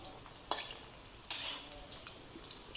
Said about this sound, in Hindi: फ्राई करते वक्त आपने इस तरह से हिलाते रहना है ताकि चारों साइडों से बराबर फ्राई हों